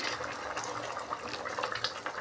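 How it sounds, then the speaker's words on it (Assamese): A short, steady rush of water pours into a pot, close and continuous. "এতিয়া মই ইয়াতে গৰম পানী দি দিম।"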